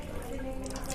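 Water runs from a tap into a small sink on a balcony, giving a soft, steady splashing flow with a faint tonal trickle, heard briefly and quietly.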